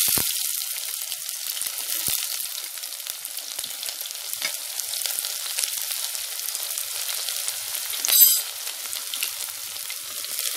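Cumin, garlic and onion frying in hot oil in a pan, a continuous close sizzle with occasional stirring scrapes and a brief louder flare near the end, no voices.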